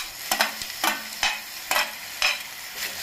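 Onions, potatoes and tomatoes being stirred in a frying pan, a series of scraping strokes about every half second over a soft steady sizzle, close and moderately loud with no talking.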